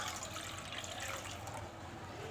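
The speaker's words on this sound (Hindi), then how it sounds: "बॉईल करने के लिए मीडियम फ्लेम पर पैन को चूल्हे पर रखेंगे और उसमें 2 ग्लास पानी के डालेंगे" Water pours steadily into a pan on a stovetop, two glasses' worth, a continuous close splashing rush with no talk over it.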